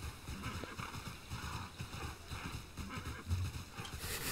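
Horse hooves clip-clopping in the online game TERA, a steady rhythmic trot with an occasional whinny over a continuous game soundscape.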